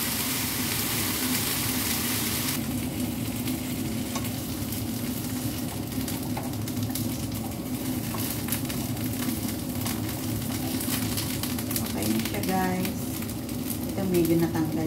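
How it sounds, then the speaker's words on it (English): Minced pork fries in a pan with a steady sizzle. A voice talks over it throughout, and near the end there are brief scraping and stirring sounds. "binaliktad ko siya para maging brown na ma-fry yung ano"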